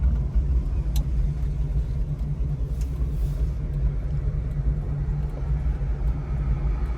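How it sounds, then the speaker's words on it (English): A 1970 Dodge Challenger idles with a steady, deep engine and exhaust rumble, muscular but not too loud, close and continuous with no pauses. "I like the choice of exhaust. It's nice, muscular, but not too loud."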